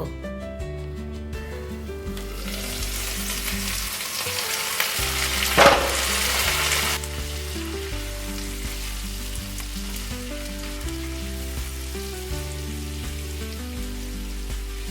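Bottle gourd peels fry in a pan with a continuous close sizzle, one brief louder burst of hissing partway through, while a steady background hum runs underneath and nobody speaks.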